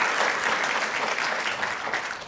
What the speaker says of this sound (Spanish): Give that strong applause to the King of Kings.